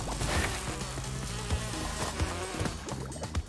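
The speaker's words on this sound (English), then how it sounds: "They're killer bees." Killer bees in the Crash Bandicoot video game give off a steady insect drone that sits under busy game music and effects, continuous across the stretch.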